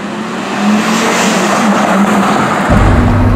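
Porsche Carrera GT supercar engine droning steadily from inside the cabin, with a low rumble that swells louder near the end, loud and continuous with no talking.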